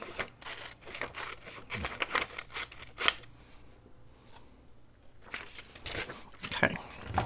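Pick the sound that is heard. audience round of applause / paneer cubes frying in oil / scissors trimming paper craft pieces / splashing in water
scissors trimming paper craft pieces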